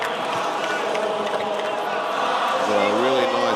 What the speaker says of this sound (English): and the crowd's still going on.